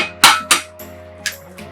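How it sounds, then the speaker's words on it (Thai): Sharp taps and clacks of chicken eggs cracking against a bowl rim, two loud hits followed by softer ones, in a quiet kitchen. "ตอกลงไปเลยไข่ไก่"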